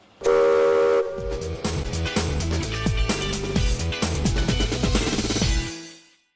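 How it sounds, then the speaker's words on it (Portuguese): A steam locomotive whistle known as the Maria Fumaça at the Immigration Museum blows a loud sustained blast, then the engine chuffs and clanks in a dense rhythmic clatter before fading. "Vamos conhecer a Maria Fumaça? Olha só o apito."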